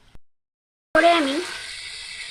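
Chicken sizzles in a frying pan as it is stirred with chili powder, a steady crackling fry that starts abruptly after a brief silence, with a short utensil clink beforehand.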